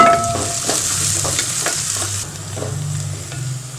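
Onion, ginger and garlic sizzle and fry in hot oil with fenugreek for a Kerala fish curry, with a steady close crackle and occasional stirring scrapes throughout, no voices.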